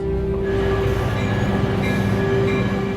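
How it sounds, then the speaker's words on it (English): A passenger train pulls into Hinton station, a loud steady rumble of wheels on rail with a sustained metallic hum held throughout, no voices over it. "The passenger train is pulling into Hinton."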